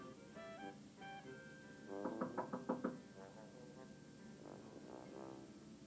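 Knocking on a door: a quick burst of about six raps around the middle, close and fairly soft, amid quiet room tone and brief indistinct vocal sounds.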